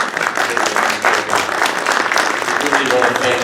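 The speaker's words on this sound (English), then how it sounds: "How about a round of applause for him?" An audience at a book talk in Monterey breaks into a loud round of applause, with bursts of clapping rising and falling and a voice faintly audible near the end.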